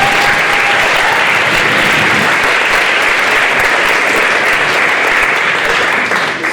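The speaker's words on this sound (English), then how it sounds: "Can I get another huge round of applause for AP" Audience at a Catholic youth conference lecture applauding loudly and steadily, a dense wall of clapping that holds for several seconds before tapering slightly at the end.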